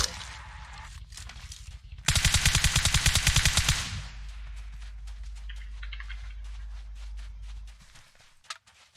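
A rapid burst of automatic gunfire in PUBG Mobile, loud and close for about two seconds, framed by quieter footsteps and scattered game noises before and after.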